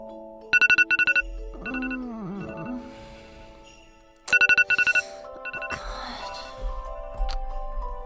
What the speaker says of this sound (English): You grabbed the phone on the bedside table to turn off the alarm